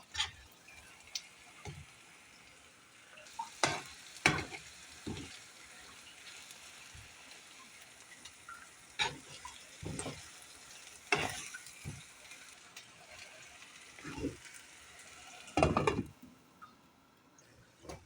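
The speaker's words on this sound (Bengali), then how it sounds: "মরিচগুলো এটার ভিতরে দিয়ে দিয়েছি। এখন এটাকে ভাজা ভাজা করব।" Chillies fry in a pan for pickle with a faint, low sizzle, broken by sporadic sharp scrapes and taps of a spoon stirring, spread unevenly across a long, quiet stretch.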